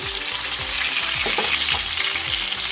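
Brinjals for gutti vankaya karam fry in a pan with a loud, dense, continuous sizzle and crackle, stirred now and then, while low, regular thumps pulse underneath.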